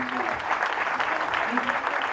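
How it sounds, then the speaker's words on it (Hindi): An audience at a Std II annual day event applauds the teachers and support staff, with dense steady clapping filling the room and some voices mixed in. "उनके लिए एक जोरदार तालियां"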